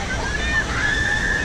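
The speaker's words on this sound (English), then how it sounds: "Beautiful river ride there." Water sloshes and churns steadily at a water park river ride, a close, continuous watery wash with faint tonal hiss above it and no talking.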